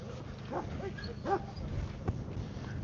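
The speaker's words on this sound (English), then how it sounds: "That's the dog that was on the quad." A dog seen riding on a quad bike near a canal in Wales gives a few short whimpering yips and a brief bark over steady outdoor background noise, at moderate distance.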